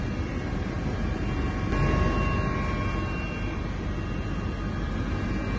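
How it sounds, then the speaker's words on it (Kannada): A helicopter on an aerial survey of the Bengaluru–Mysuru expressway gives a steady, loud, roaring engine and rotor drone that holds constant throughout. "ವೈಮಾನಿಕ ಸಮೀಕ್ಷೆ ಹೆಲಿಕಾಪ್ಟರ್ ಮೂಲಕ ರಾಷ್ಟ್ರೀಯ ಹೆದ್ದಾರಿಯ ಪರಿಶೀಲನೆ ಮಾಡುತ್ತಿದ್ದಾರೆ"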